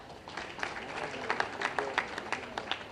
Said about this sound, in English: Each one of them deserves an applause.